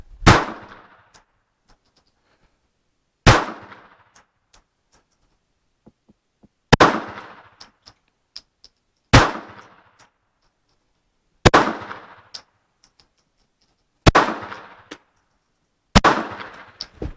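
Seven sharp, loud pistol shots from a Ruby .32 ACP fired at a target at 7 yards, spaced a few seconds apart, each a crisp crack with a short ringing tail.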